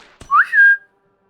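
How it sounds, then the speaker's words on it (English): A video game character in Shroom and Gloom whistles one short rising note that then holds steady, preceded by a brief click and followed by silence. "He's whistling."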